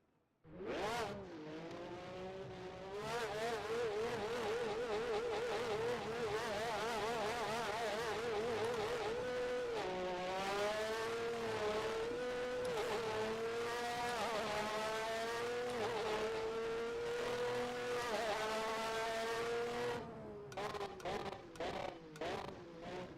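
A 1988 Formula 1 race car in rFactor 2, its high-pitched engine screaming steadily at speed with rising and falling revs through gear changes, loud and continuous, ending in a series of sharp downshift blips.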